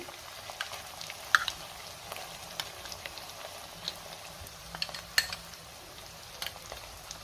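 A spiced yogurt paste of powdered masalas cooking with onion and tomato in a pan for a mung bean curry, giving a faint, steady sizzle with scattered soft stirring taps and scrapes, quiet and close.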